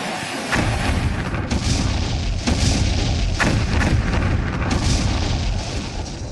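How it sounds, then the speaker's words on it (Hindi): Missile strikes hit Kyiv during a bombardment, with repeated heavy booms and rumbling blasts rolling over a constant loud roar, several impacts spaced a second or two apart. "विनाशकारी मिसाइलें बरस रही हैं"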